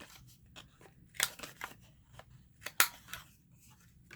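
Scissors snip through a paper masterboard to cut journal cards, a few sharp crisp cuts and soft paper rustles up close in a quiet room, no talk.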